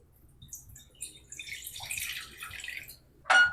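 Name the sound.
water being poured into a cooking pot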